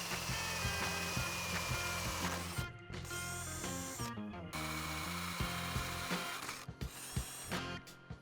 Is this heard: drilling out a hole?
yes